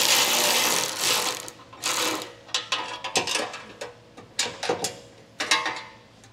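Ratchet clicking in repeated bursts while bolts come off the bumper beam of a 2023 Subaru Impreza during a hidden trailer hitch install, close and fairly loud, with pauses between runs of clicks.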